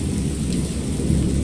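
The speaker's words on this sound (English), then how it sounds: "I heard bells of thunder and other tones which nature utters only in her wildest" A thunderstorm rages in the horror game Dagon, a steady dense rumble of thunder with rain hissing underneath, loud and continuous throughout.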